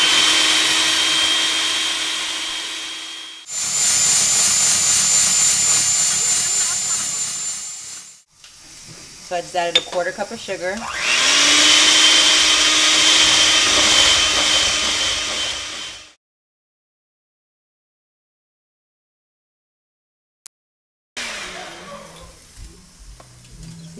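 A blender whips egg whites with a quarter cup of sugar into stiff peaks, a loud steady whirring hiss that runs in bursts, stops briefly, restarts, then falls silent before a short final burst, with a person talking in between.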